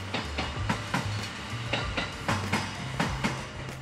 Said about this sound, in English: Train fans love that the trains run past their tents.